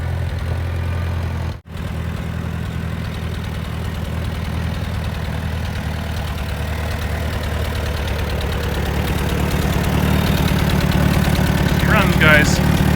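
A 1950 Allis Chalmers B tractor engine idles with a low, steady chugging rumble close by, growing slightly louder toward the end.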